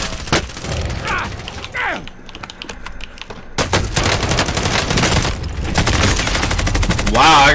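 Rapid bursts of gunfire crackle in a zombie shooter game, coming from both sides in dense volleys that break off briefly and then return louder and more continuous toward the end.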